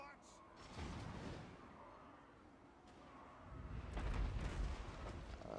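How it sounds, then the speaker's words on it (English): Dwarven catapults firing in the battle game Total War: Warhammer 2, low rumbling booms and impacts rolling under ongoing battle noise, building louder toward the end. "My catapults are now able to fire a little."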